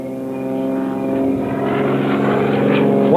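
A propeller plane flies a low-level solo aerobatic routine at an airshow. The engine drone is loud and steady and swells and shifts in pitch as the aircraft passes close by.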